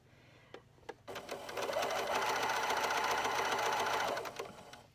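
A sewing machine runs a steady stitching burst along a sleep mask seam, preceded by a few short clicks and starts, then stops near the end, with no talking.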